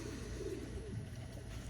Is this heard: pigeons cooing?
yes